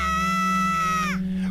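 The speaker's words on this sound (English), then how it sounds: "it's that goddamn scream." A sustained, piercing scream from The Legend of Zelda: Wind Waker video game holds a steady pitch, then drops and trails off into a low droning tone, loud and close throughout.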